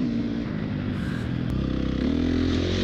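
A dirt bike engine revs steadily nearby, a loud continuous rumbling drone that rises in pitch near the end.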